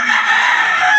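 Chicks from a gamefarm brood peep in a dense, high-pitched chorus, continuous and close for about a second.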